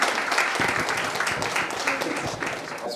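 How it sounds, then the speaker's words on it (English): Audience at a law workshop on consumer protection applauding a speaker, dense steady clapping throughout with crowd noise and some voices mixed in. "Guys, a big round of applause for the one-man army here."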